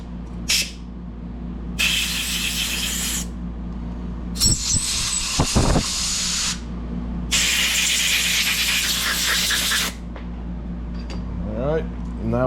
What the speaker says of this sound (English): then I'm going to blow everything out with some compressed air.